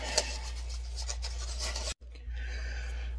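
Dry plug pipe tobacco being rubbed out between the hands, a steady close rasping friction that runs continuously, drops out briefly, then resumes more softly.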